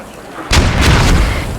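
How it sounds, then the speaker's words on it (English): Mortar shells landing in the military shooter game Squad, a sudden heavy boom that hits after a quiet half second and rolls on as a sustained rumbling blast with crackling debris. "Mortars landing left, right, and center."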